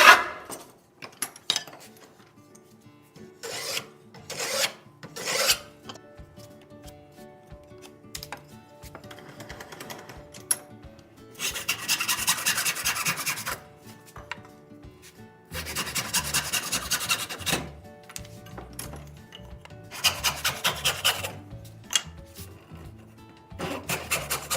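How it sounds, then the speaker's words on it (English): Hand-beveling the edges of 2-inch wood stock for a trestle bench, heard as bursts of dry rasping strokes in rhythmic runs separated by short pauses, close and fairly loud with no talking. "I'm going to break the edge on each piece and put a nice bevel"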